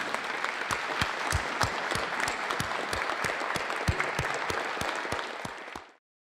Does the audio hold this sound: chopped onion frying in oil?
no